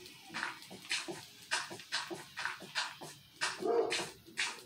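A dog named Rambo barks repeatedly, a run of about ten sharp, evenly spaced barks at moderate distance with no talk over them.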